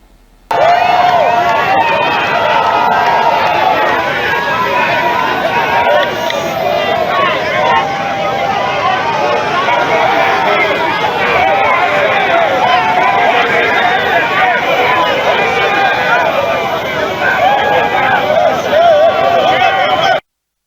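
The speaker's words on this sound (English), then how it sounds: "the crowd that gathered at the Government House gate to receive him" A large crowd gathered at the Government House gate in Port Harcourt welcomes the governor, a dense, steady roar of cheering voices and chatter filling the air without pause.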